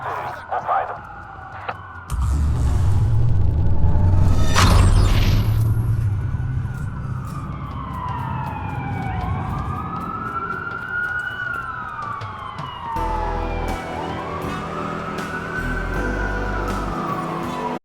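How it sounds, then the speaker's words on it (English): Police car sirens wail in the Watch Dogs video game, several rising and falling tones overlapping loudly over a low rumble of traffic and game ambience, with voices talking amid the noise. "A lot of sirens for a blackout."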